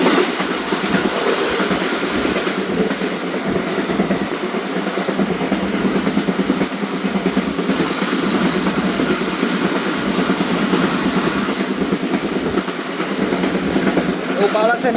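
The 116dn Musapak Express passenger train runs at night between Okara and Sahiwal, heard from on board as a continuous loud rumble with a steady clickety-clack of wheels on rails, with faint speech now and then.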